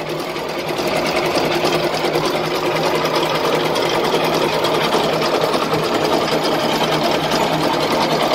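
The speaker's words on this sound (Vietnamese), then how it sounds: "cái động cơ nó hoạt động mà rất là nhẹ" Yanmar marine engine running aboard a 15-metre, 3.5-metre-wide boat, a steady fast mechanical clatter, close and continuous, with a low drone underneath and no talk.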